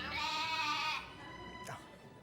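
Sheep bleating: one long, loud, quavering bleat up close, then a shorter faint cry after a pause, with no talk.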